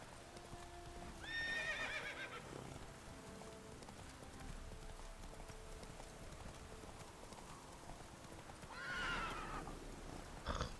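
A horse in the Witcher 3 video game, its hooves clip-clopping steadily on a road under faint rain, with a neigh or whinny near the start and another near the end, fairly quiet and with no talking.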